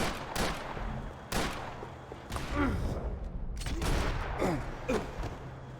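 Gunfire in the video game Max Payne 3, sharp shots cracking out at intervals over a dense game soundscape, with other noises and faint voices in between.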